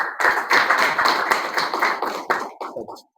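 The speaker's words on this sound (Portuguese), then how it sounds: "Palmas para os nossos candidatos." Burst of audience applause for graduating health technician candidates at an end-of-course ceremony, dense clapping from a crowd that swells quickly and then tapers off and stops.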